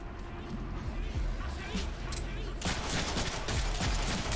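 Rapid pistol gunfire from the Deadpool video game, a dense continuous stream of shots that grows louder and harsher partway through, with background game noise throughout.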